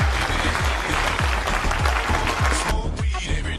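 Loud, continuous crowd applause fills about three seconds over a steady, regular low thumping beat, then cuts off abruptly near the end.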